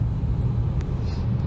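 Road traffic from inside a car: a low, steady rumble of road noise with no distinct events, heard close and continuous.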